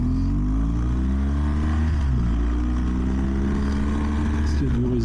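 Motorcycle engine running steadily after shifting back into first gear on a ride in Bosnia, a loud close drone with a slight dip and rise in pitch.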